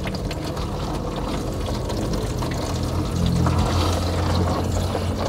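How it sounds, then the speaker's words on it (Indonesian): Water splashes and pours steadily over the rear trunk of a Toyota Innova Reborn during a leak test, a continuous broadband wash with a slightly louder surge near the end, no voices. "Itu disiram-siram."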